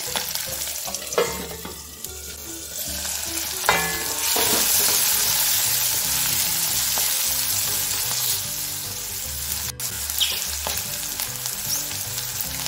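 Fresh green peas sizzle steadily in a hot pan with spiced oil for bharta, a close, continuous frying hiss broken by a few soft clicks of stirring.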